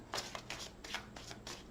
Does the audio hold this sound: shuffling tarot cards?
yes